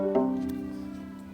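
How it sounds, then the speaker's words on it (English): A viola, the orchestral string instrument slightly deeper than a violin, sounds a sustained bowed note with rich harmonics, steady and close, with no one talking. "the viola, which is a little bit deeper, but about the same size as a violin"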